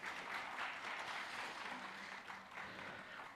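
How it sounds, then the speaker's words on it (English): Applause rises from the audience at a regional drone forum in Kathmandu, Nepal, as a speaker is welcomed onstage, a steady wash of clapping that swells and eases slightly, fairly soft and with no one talking. "Please, round of applause for Kat, please."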